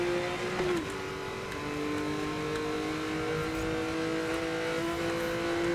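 A car races fast in Need for Speed: Most Wanted (2012), its engine whining at a high sustained pitch with a short shift-like dip early on. Road and tire noise rush steadily beneath it.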